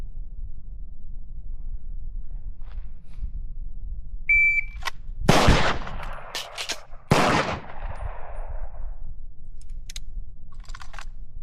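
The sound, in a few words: gunshots during a pistol reload practice drill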